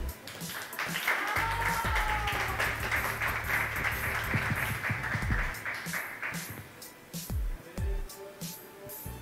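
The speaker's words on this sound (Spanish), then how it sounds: "Aplauso para ellos." Applause for contest winners at a live art competition final, a broad wash of clapping from a crowd that holds steady, with a few voices, a low hum and scattered knocks mixed in.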